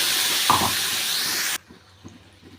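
Curry leaf paste hits a hot pan for karivepilai thokku, giving a steady loud sizzling hiss that cuts off abruptly, leaving faint kitchen clatter afterward.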